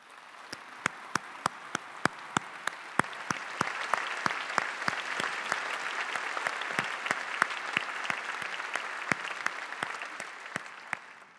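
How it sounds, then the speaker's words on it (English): Audience applause at an arts convocation, a crowd clapping steadily with sharp individual claps standing out, swelling slightly and holding for several seconds before easing off. "please join me now in a round of applause for Margaret Mondavi"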